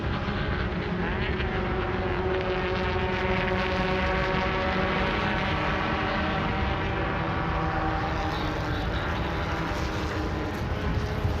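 Formula LGB 1300 single-seater race cars in the MRF Challenge 2018 working through turn 9, with a steady, loud, continuous engine drone that persists throughout and has no pauses.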